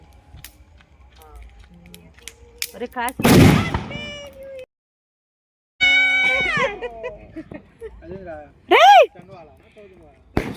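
Firecrackers go off at a family New Year midnight celebration: a couple of sharp, loud bursts and whistling tones, separated by quiet gaps, with people talking around them.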